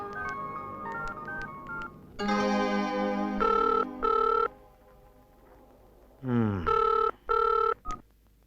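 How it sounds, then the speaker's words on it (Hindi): An electronic telephone rings in paired tonal bursts, repeating twice, with other beeping tones and a brief sliding sound between the rings. "रोहित, तुम्हारा फोन।"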